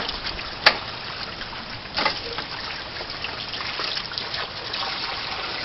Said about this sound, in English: Alright, got that V-mat clean. Rinsing this down.